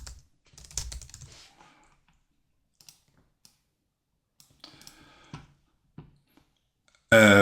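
Sparse clicks and taps on a computer keyboard, with a short flurry near the start and scattered single keystrokes after it, all quiet and close, ending in a sudden loud burst of noise.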